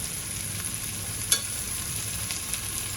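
Chopped onion fries in a pan with curry leaves and salt for a capsicum zunka, giving a steady close sizzle and crackle throughout, with one brief clink of a utensil partway through.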